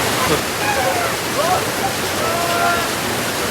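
Water rushes loudly near the Jatashankar temple on Girnar, a dense continuous roar close by, with a voice talking over it.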